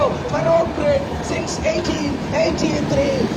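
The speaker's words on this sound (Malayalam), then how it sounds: "ആ പഴയ പാലത്തിൽ സമീപത്തോടെ ഒരു ട്രെയിൻ കടന്നു പോകുന്ന അതിമനോഹരമായ കാഴ്ച" A train rumbles past near the 142-year-old Feroke bridge, a steady, fairly loud rolling roar that lasts throughout, with faint voices mixed in.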